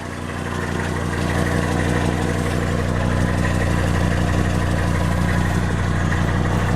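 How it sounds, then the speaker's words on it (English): A Mercedes 300D turbo diesel engine idles steadily on a cold day, a close, continuous low rumble with even mechanical clatter and no change in pace throughout. "it just sounds like that little, that sweet little 300D sound"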